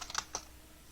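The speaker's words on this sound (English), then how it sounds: "I'm going to type in here" A few quick keystrokes tap on a computer keyboard, a short cluster of light clicks close by, then quiet.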